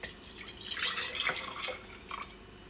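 Vodka pours into a bottle for homemade lemon extract, a short splashing, trickling stream that swells and fades over a few seconds, heard close and alone.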